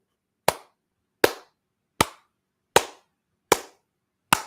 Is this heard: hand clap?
yes